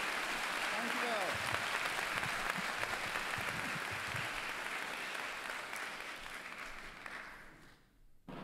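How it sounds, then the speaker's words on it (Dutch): Church congregation applauding in a sustained round of clapping that slowly fades, with voices calling out over it. "Geef ze nog een applaus."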